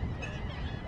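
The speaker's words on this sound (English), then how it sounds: "Oh my goodness, the birds just took off." Geese honking loudly and close by in a brief burst of overlapping calls as they take off, with a flurry of wingbeats beneath them, at Fort Clinch State Park.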